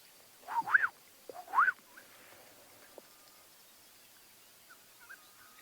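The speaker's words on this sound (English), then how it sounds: "And the beautiful sound of the black-headed oriole." Black-headed oriole calling at Ngala Private Game Reserve during a morning safari: two clear, liquid whistled phrases close together, followed by faint, scattered chirps over quiet bush.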